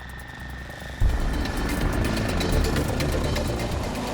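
A Westland Lynx attack helicopter of 847 Squadron flies over a road in the Iraqi desert, its steady rotor and engine roar swelling sharply after a quieter start and holding loud and continuous.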